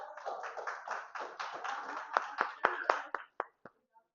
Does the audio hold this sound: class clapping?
yes